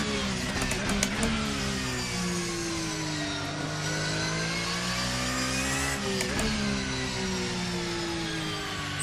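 A 2023 Darche 992 GT3 R race car in Assetto Corsa roars continuously at high revs, with a steady loud engine drone, quick gear changes, and a brief dip and rise in pitch partway through.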